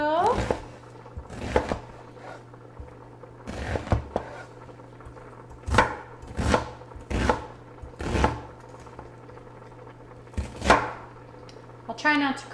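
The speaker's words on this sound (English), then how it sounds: "I'm just chopping this onion up a little." A knife chops an onion on a cutting board in irregular bursts of quick taps, close by, with quiet pauses between the cutting runs.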